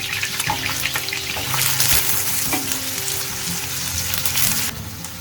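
Onions and peppers frying together in melted fat in a pan: a loud, continuous sizzle and spatter with stirring scrapes, close and alone, swelling briefly in the middle before settling back.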